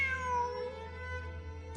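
A cat meows in the video game Genshin Impact, one drawn-out, clear meow with a falling pitch, close and fairly quiet, with no talking, then a brief soft tap at the end.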